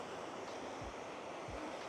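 Waves wash steadily against the shore of greenish water in North Korea, with a constant broadband surf rush, wind buffeting the microphone, and a couple of soft low thumps.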